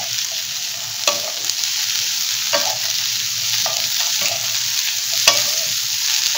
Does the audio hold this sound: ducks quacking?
no